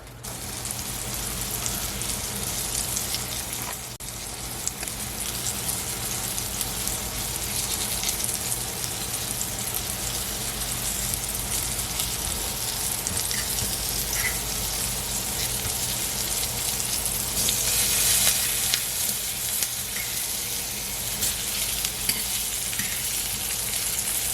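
Eggs with spinach fry in a pan on high heat, giving a loud, continuous close-up sizzle that crackles steadily throughout with no talking.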